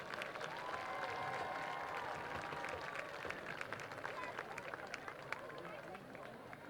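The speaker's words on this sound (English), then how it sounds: "Let's give our seniors and our parents another round of applause." A high school football stadium crowd applauds and cheers for seniors and their parents, sustained clapping from a large audience at a distance, with crowd chatter mixed in.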